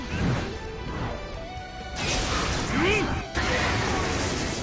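Detonation attack effect from the game Seven Deadly Sins: Grand Cross, a sharp crash and burst with whooshing, sweeping tones and a brief cut before another blast, loud and dense, with a voice over parts.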